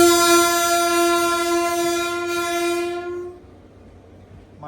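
Hatia express train passing through Chandragiri station, its long horn blast sounding loud and steady for about three seconds over the rumble of the moving cars before cutting off, leaving a quieter rolling hum.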